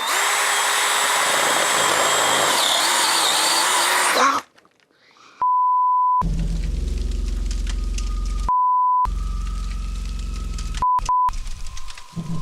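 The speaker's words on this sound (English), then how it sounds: "it seems it works fine if I try to drill soft stuff with it, like a piece of wood" A power drill drilling into soft wood whines loudly for a few seconds, stops briefly, then runs again in several bursts with short pauses between them.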